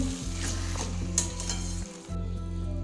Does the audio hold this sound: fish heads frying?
yes